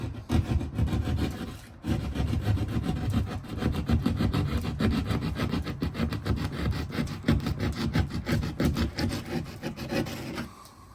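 Scraping and sawing at the edges of a ceiling hole, trimming it a little at a time so an LED spotlight will fit, a steady close rasping rub that runs the whole time with one short break near the start.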